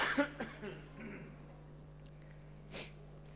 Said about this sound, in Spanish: Mensaje con coro de tos